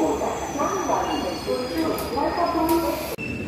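The Guntur to Narasapur intercity express pulls out of Bhimavaram Town station, its carriages rumbling and wheels squealing steadily and close by, with voices in the background.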